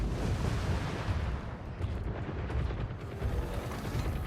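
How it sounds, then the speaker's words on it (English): Missile striking an enemy robot in the War Robots Frontiers game, heard as dense, continuous explosive rumbling and battle noise with repeated bursts throughout, no speech. "I'm hitting that guy up top with a missile."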